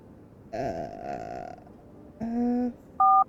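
A single loud two-tone telephone keypad beep rings out at the end, after a stretch of croaky, burp-like vocal noises.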